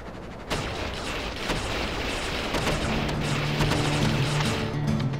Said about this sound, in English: Man, the Megaton cannons are nasty!